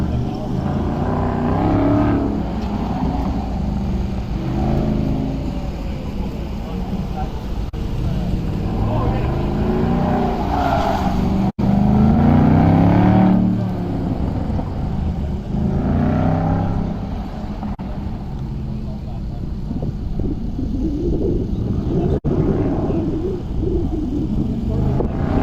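Race car running an autocross course at an SCCA event, heard from the sidelines as a steady engine rumble that rises and falls through the run, with people talking nearby throughout.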